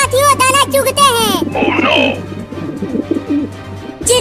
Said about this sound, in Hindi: चिंटू, वो देखो, आसमान में ढेर सारे कबूतर उड़ रहे हैं।